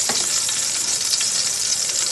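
An eggplant omelette (tortang talong) sizzles loudly in a hot pan, with a dense, steady crackle of frying oil and no voices.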